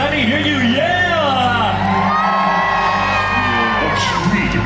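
A theme park stage-show audience whoops, yells and cheers in one loud, sustained roar, with high shouts and whistles rising over the dense crowd noise.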